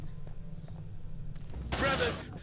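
Gunfire in the sci-fi horror game Aliens: Dark Descent, a short sharp burst of shots near the end after quieter background rumble and faint chirps.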